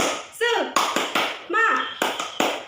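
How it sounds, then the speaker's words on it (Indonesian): A teacher leads the 'tepuk semangat' chant in a classroom, sharp rhythmic hand claps alternating with short shouted chant words. Close and lively, with claps in quick groups between the voiced calls. "Ayo kita bareng-bareng tepuk semangat"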